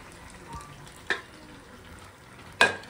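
Dal with tamarind juice stirred in a pan in a home kitchen: a faint simmering bubble under a few sharp scraping clacks of a spoon against the pan.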